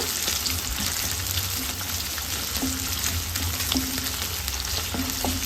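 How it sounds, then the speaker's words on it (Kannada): Chopped onion sizzles steadily in hot oil in a home kitchen pan while a curry is prepared, a continuous close frying hiss with occasional stirring scrapes and clinks, no talking. "ಎಣ್ಣೆ ಬಿಸಿಯಾಗಿದೆ ಒಂದು ಈರುಳ್ಳಿನ ಸಣ್ಣದಾಗಿ ಕಟ್ ಮಾಡಿ ಇಟ್ಕೊಂಡಿದ್ದೀನಿ ಅದನ್ನು ಸೇರಿಸ್ಕೊಂಡು ಫ್ರೈ ಮಾಡ್ಕೊಳ್ಳೋಣ"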